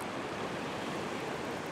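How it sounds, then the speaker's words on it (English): Ocean waves wash against coastal rocks during rock fishing, a steady broadband roar of surf heard up close and fairly soft, with no speech. "I've got to watch the waves"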